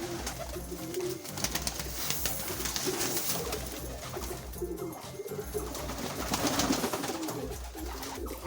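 Pigeons at a loft coo in low, throaty, repeated calls as grain is scattered for them, several birds close together, with light fluttering and rustling around them.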